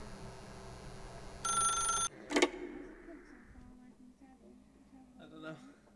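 A telephone rings in the video game The Stanley Parable, one bright electronic ring burst followed by a sharp clatter, then quieter room sounds.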